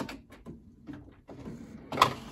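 A Canon Pixma iP8720 printer working on a 13x19 photo print gives off short mechanical whirs and clunks in uneven bursts, close by, ending on a sharper clack, with no talking.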